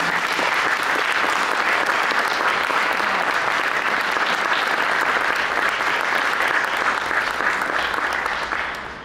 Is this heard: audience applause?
yes